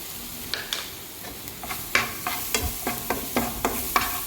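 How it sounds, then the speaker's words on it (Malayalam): A spoon stirs Chinese potato with chili and turmeric powder in a sizzling pan, a constant frying hiss under a series of sharp, evenly spaced scraping clicks that grow more regular toward the end. "നന്നായി ഇളക്കി കൊടുക്കാം."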